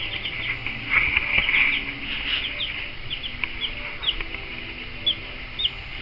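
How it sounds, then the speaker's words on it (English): Several Blue Americana chicks chirp and peep nearby in a steady high-pitched chatter, with a few sharper calls standing out. "To be more specific, I got me some Blue Americana chicks."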